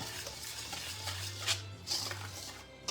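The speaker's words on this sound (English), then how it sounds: "I'm going to whisk that together so that's all incorporated." A whisk stirring baking soda through flour and other dry ingredients for soda bread in a bowl, a soft brushing and scraping rhythm, close and quiet, with a steady low hum underneath.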